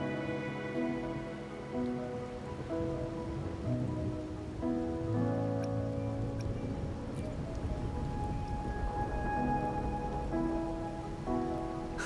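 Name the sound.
rain falling in video game Wuthering Waves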